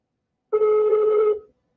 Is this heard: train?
no